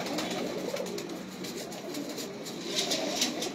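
Pigeons kept by a fancier coo steadily and close by, the low rolling calls layered into a dense continuous murmur of several birds.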